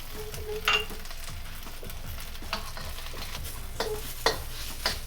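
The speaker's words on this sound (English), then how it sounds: "Toss in my onions." Onions toss and stir-fry in a hot pan for vegetarian beef chow fun, a continuous crackling sizzle broken by several sharp scraping bursts as the pan is worked.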